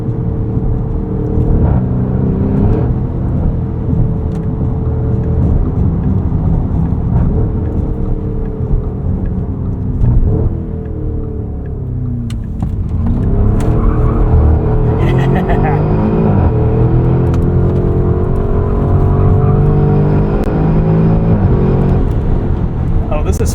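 A 2024 Porsche Cayenne Turbo E-Hybrid Coupe on winter tires braking and then launching hard, heard from inside: a deep engine rumble and whir that surges and climbs in pitch through shifts, with a brief dip midway, loud and continuous.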